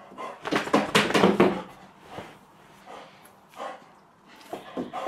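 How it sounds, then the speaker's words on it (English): An excited puppy lets out a burst of loud, close yaps and barks, then a few scattered quieter barks and thumps follow with gaps between them. "Just calm yourself, you silly puppy."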